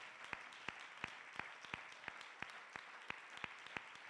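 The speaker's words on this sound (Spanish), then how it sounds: "Dele otro aplauso a la gloria del Señor en este momento." A church congregation applauds in praise, faint and steady, with one nearby pair of hands clapping in a regular, evenly spaced beat over the softer crowd clapping.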